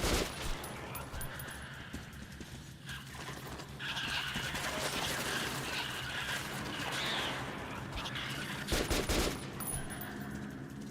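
Video game gunfire in a chaotic action scene, with bursts of automatic fire and impacts over a constant rumble, plus a brief loud volley near the end.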